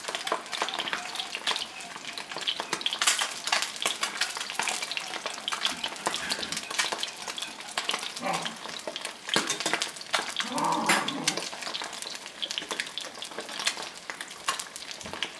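Branzino fish skin sizzling loudly in a hot pan, a steady crackling fry with scraping stir sounds, close and continuous with no talk.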